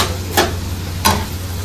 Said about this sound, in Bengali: আর এখন ওই ভাপানো সবজিগুলো দিয়ে দিচ্ছে